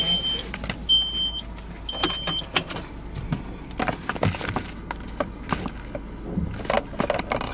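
A car driven off-road over rough ground and through bushes, its interior filled with rattles, knocks and scraping thuds from the bumpy terrain, close and continuous, with no clear talk.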